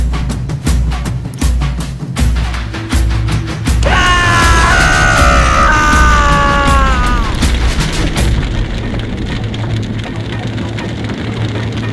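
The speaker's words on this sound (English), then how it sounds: "Molotov cocktail." A Molotov cocktail bursts into flames in a military-themed drama: a few sharp, heavy thumps, then a loud, sustained crackling roar with a bright whining tone for several seconds before it settles into a steady, noisy hiss.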